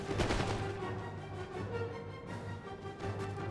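Musket volley gunfire in the Total War: Empire strategy game, a dense, continuous crackle of massed shots, moderately loud and sustained throughout with no voices.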